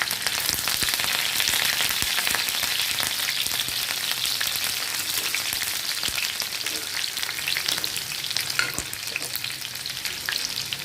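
Garlic and green chilli fry in hot oil for a raw banana bhaji, a continuous close sizzle with scattered crackles and pops, loud and unbroken, no voices.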